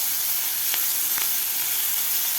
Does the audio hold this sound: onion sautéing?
yes